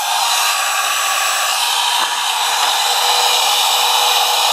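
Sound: heat gun warming up

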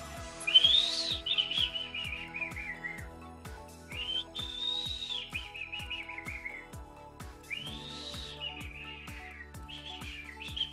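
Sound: person imitating a fish eagle's call

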